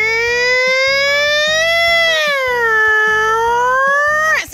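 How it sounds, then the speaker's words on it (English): A loud electronic toy fire truck siren wails in a continuous rising and falling tone over a rhythmic pulsing beep, ending with an abrupt downward sweep. "here's where the siren is so people know that a fire truck is on the way"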